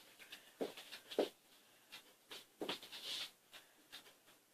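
Scissors snipping through curtain fabric in a few separate, close cuts, each a short crisp burst with brief pauses between, fairly quiet with no talking.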